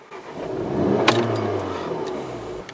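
A Volkswagen Golf R engine cranks and catches, then revs briefly and settles into a steady idle, close by.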